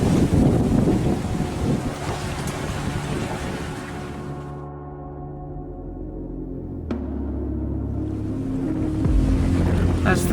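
A sailboat running on a broad reach, starboard tack, in about 15 knots of wind over calm open ocean, with a steady rushing wash of water and wind buffeting the microphone throughout, and a brief sharp knock partway through.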